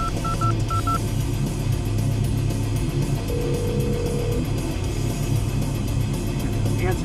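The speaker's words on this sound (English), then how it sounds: "Come on, Jack, answer the fucking phone!" Telephone keypad tones dialing a call, a quick run of short beeps in two clusters near the start, followed by a steady ringback tone, all under a loud noisy background.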